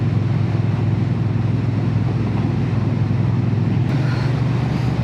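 A Triumph Bonneville T120 motorcycle being ridden gives a steady, loud low engine rumble mixed with constant wind and road noise, continuous throughout without any talk.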